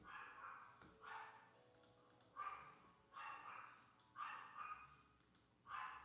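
A dog barks in repeated sharp bursts, about five or six barks spaced across several seconds, moderately close in a quiet indoor room with no talk over it.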